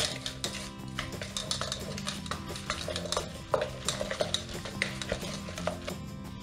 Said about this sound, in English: And then just mix it all up.